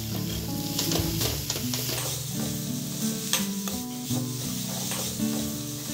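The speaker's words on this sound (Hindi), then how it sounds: "उसमें मैंने एक कप ग्रेटेड नारियल और आधा कप ग्रेटेड गुड़ डाला है। थोड़ी देर के लिए मैं इसे पकाऊंगी।" Grated coconut and grated jaggery cooking in ghee in a pan, a soft close sizzle with intermittent scraping stirs, fairly quiet, no speech.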